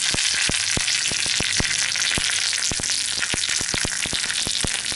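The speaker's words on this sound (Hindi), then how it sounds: "जैसे ही थोड़ा क्रैकल होना शुरू कर हो जाता है फिर मैं उसमें कड़ी पत्ता डाल देती हूँ।" Mustard seeds and curry leaves crackle in hot oil for a tadka to top a beetroot salad: a loud, dense sizzle peppered with many sharp, irregular pops, close by with no talking.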